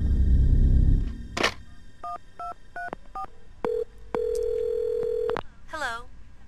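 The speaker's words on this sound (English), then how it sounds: "Is that a phone?" In the PSX game Clock Tower, a telephone tone sequence plays: short dialing beeps in a rhythmic run, then long steady tones, with a rising warbling chirp at the end, clear and alone.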